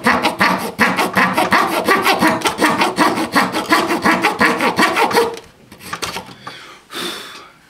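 A coarse hand saw blade cuts through a plastic LSx intake manifold in quick, even back-and-forth strokes, loud and close, before slowing to a few scattered scrapes.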